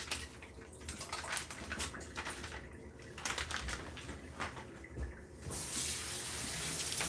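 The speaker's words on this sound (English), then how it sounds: "we'll take the miracle noodle and rinse it" Tap water runs steadily into a kitchen sink as miracle noodles are rinsed, a continuous splashing hiss that swells louder near the end, with no talking.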